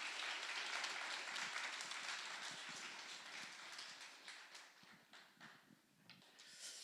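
Applause rings out in a church worship service to welcome the pastor, a dense, fairly faint clapping from a congregation that gradually thins and tapers toward the end.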